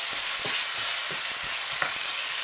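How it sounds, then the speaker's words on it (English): A fish roll filling of sardines seasoned with thyme, salt and Maggi fries in a pan as it is stirred, giving a steady soft sizzle broken by repeated scraping strokes, with no voices. "Your salt and your Maggi. Make sure to continuously stir."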